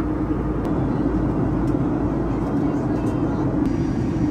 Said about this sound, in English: we are now on that final approach into Las Vegas